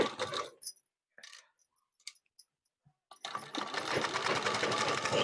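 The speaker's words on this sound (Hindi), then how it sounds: "नीचे से ½ इंच का चौड़ाई लेते हुए हम टेकिंग का सिलाई लगा रहे हैं।" A sewing machine stitching a tacking seam half an inch from the edge, with a loud close-up burst of whirring, a few scattered clicks and handling noises during a pause, then steady running again.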